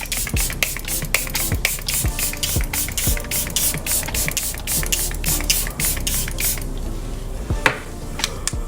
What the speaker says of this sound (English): I'm gonna go ahead and set my face and I drown with this setting spray